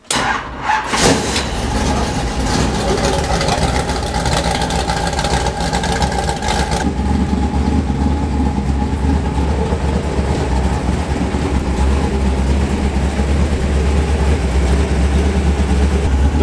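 A Euro NASCAR race car engine cranks and catches, then settles into a loud, steady idle rumble that continues throughout.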